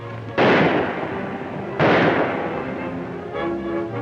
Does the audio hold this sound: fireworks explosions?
yes